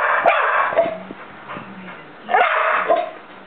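A dog barking at crabs, with a few sharp yips and barks in two clusters over bright hissing noise, close and moderately loud.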